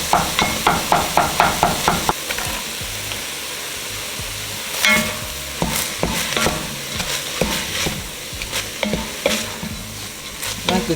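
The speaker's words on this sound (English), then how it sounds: "I like to cook my onions in a little bit before I add my garlic, so that the garlic don't burn." Onion frying in a pan for ditalini soup, stirred with a utensil that clacks rhythmically against the pan at first, then scrapes and taps intermittently over a steady close sizzle throughout.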